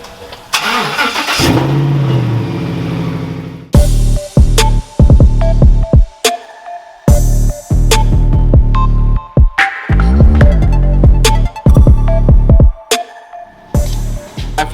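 A modified truck engine starts and runs loudly, a deep throbbing rumble in bursts of revving broken by short gaps, close to the exhaust.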